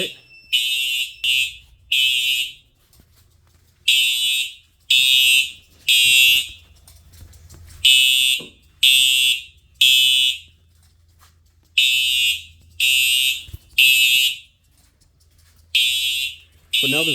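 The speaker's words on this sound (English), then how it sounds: "we got an alarm" A fire alarm triggered from a pull station during a system test sounds in repeated loud, shrill electronic bursts of about a second each, in groups with short gaps, over a low background hum.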